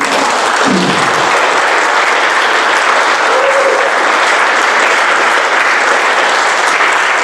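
Loud, dense applause from a conference audience, a steady roar of clapping hands held at even strength throughout, close and filling the room.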